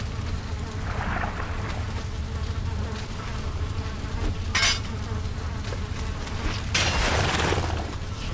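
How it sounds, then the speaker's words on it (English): A spawner in the Valheim video game gives off a constant buzz of flies inside a sunken crypt. The drone stays steady throughout with a couple of brief sharper bursts over it, and nobody talks. "that fly buzzing sound is a spawner."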